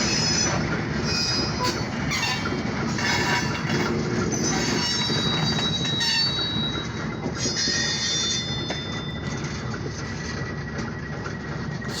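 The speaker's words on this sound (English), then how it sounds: "a small ethanol train." A short ethanol tanker train rolls past close by, loud and steady, with wheel squeal and a clanking rumble from the railcars that slowly eases off near the end.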